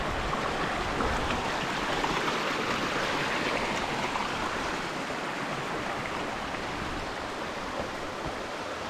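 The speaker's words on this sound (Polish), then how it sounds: "przechodzę przez Wisłę." River water flowing around the legs of someone wading across the Vistula near its source, a steady, close rushing and burbling that holds even throughout.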